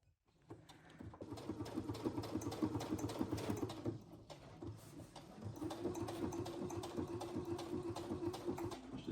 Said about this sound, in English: And here I am sewing the pockets really slowly.